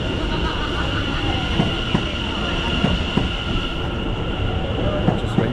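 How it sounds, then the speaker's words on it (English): Train noise at a station on a service to London Liverpool Street: a steady, loud rumble with a sustained tonal whine, faint clicks and knocks from the carriages, and no talking. "Just waiting for the train now to Ipswich"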